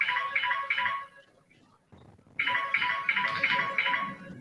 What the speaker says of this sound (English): Just a minute. Some phone calls.